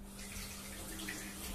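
Tap water running steadily while juicer internal parts are rinsed, a continuous broad splashing hiss at low level with no breaks or voices.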